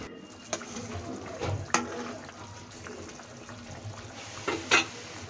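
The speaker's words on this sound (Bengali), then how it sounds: "এখন একটু নেড়ে নেব।" Fried fish pieces in a masala curry are stirred in a pan on a raised flame, with a few soft scrapes and knocks over a low, quiet sizzle, close up and without talk.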